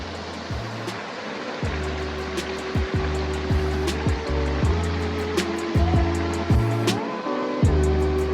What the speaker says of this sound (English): Even the sound of this water is giving me chills.